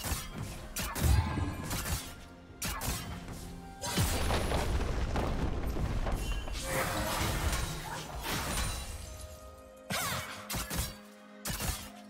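A turret is destroyed in League of Legends: a run of booming crashes, crumbling bursts and whooshing effects from close by, with short pauses between the heavier hits.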